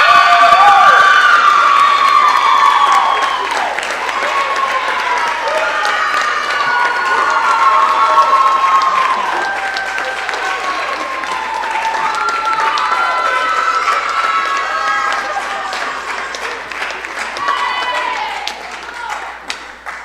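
A crowd at a university coronation event claps and cheers for twenty seconds, with high-pitched shouts and whoops rising over steady applause that ebbs and swells before tapering at the end.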